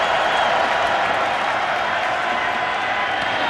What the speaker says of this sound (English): Crowd getting into it on 2nd and 16.